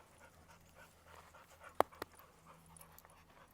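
A dog pants softly and rapidly during off-leash play with a pack of dogs outdoors, with a couple of sharp thumps or yips in the middle and faint background noise.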